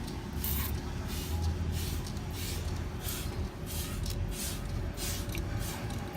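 Water squirted from a spray bottle onto a freshly coated vehicle chassis rail, a run of short hissing spray bursts in fairly even rhythm, close but soft, over a low steady background hum.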